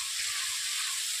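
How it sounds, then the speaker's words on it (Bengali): A spice paste for a rui fish curry, thinned with a splash of water, bubbles in a pan with an even, hissing sizzle that stays constant and close throughout, alone and without voices. "মশলাগুলোকে এইভাবে জল দেওয়ার পর আমি 3 থেকে 4 মিনিট কষিয়ে নিচ্ছি।"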